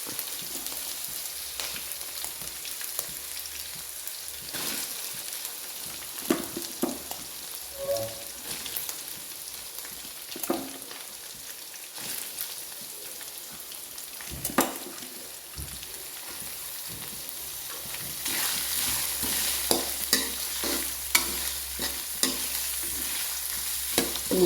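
Sliced onions and green chillies sauté in oil for Kerala chicken perattu, giving a steady, rain-like sizzle broken by stirring scrapes. The frying grows slightly louder toward the end, with no voices.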